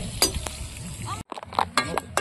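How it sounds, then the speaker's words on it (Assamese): Fish and onions fry in a pan at an outdoor riverside picnic, a steady sizzle broken by clinks and scrapes of a utensil stirring the pan. "এইফালে ইয়াৰ মাছ ফ্ৰাই হৈ আছে আৰু এইফালে চিকেন বনাবৰ কাৰণে পিঁয়াজটো ফ্ৰাই কৰি আছে"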